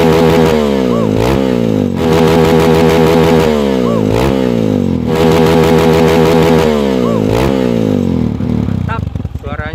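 Honda CRF 230 dirt bike fitted with an FMF exhaust, revved hard close by in repeated rising blips that climb and fall back several times, loud and raspy throughout, with speech faintly underneath.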